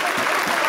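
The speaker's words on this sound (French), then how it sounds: "Allez, applaudissez-le, Yann Frix." A studio audience claps at a live radio comedy show in Studio 104, a brief burst of dense, lively applause filling the room.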